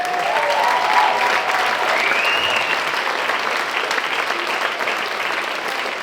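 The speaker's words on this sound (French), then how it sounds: "Je voudrais aussi un immense applaudissement pour notre régie qui a assuré ce soir." Steady, dense audience applause at a cabaret show, a continuous mid-distance clapping crowd with faint background tones.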